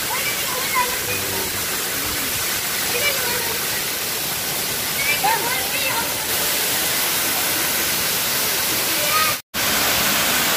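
Batlag Falls waterfall roars as a steady, loud broadband rush close by, constant throughout with a brief dropout near the end; faint voices occasionally rise above the water.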